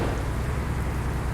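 Heavy rain drums steadily on a vehicle climbing a mountain pass near Munnar, a dense continuous wash of noise with a low rumble beneath and no voices.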